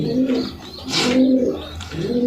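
Racing pigeons in cages coo nearby, with three rolling, throaty coos repeating at an even pace over faint background chatter from other birds.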